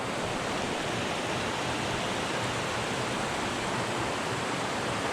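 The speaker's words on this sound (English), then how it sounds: "We just got up to the biggest waterfall on 4 Mile Run" The biggest waterfall on 4 Mile Run in Pennsylvania's Grand Canyon roars in a loud, dense, unbroken rush of falling water, steady from start to finish with no voices.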